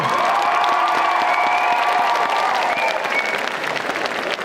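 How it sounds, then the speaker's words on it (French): Loud, dense applause and some cheering from a convention crowd for a cosplayer on stage at a cosplay contest, continuous across the whole stretch with tonal sounds from a sound system underneath. "applaudissez-la très fort"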